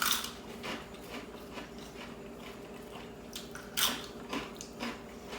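Spicy corn chips are bitten and chewed up close. Faint crisp crunches and moist chewing come in uneven bursts, with one sharper bite partway through, and no talking.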